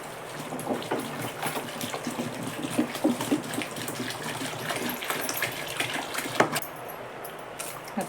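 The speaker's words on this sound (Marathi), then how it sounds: "दुसरं पाणी घालते त्यात." Water poured over soaked wheat grains in a vessel, a steady splashing gush with small trickles and clinks running for several seconds, close by with no talk.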